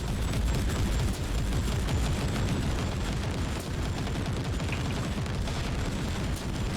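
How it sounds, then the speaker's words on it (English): Missiles and heavy weapons fire pound away in a shooter video game, some aimed at the player. The result is a dense, unbroken barrage of blasts and rumbling explosions at steady, loud volume. "Stop shooting missiles at me"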